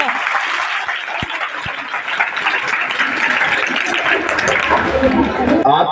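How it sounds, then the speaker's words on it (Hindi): Sustained loud applause from a class of schoolchildren for a classmate at a school in Loni, Ghaziabad; dense continuous clapping close by, steady for several seconds, with murmuring voices underneath. "ताली बजा दो इसके लिए।"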